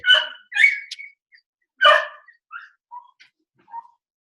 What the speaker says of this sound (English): And then I got 2 dogs that like,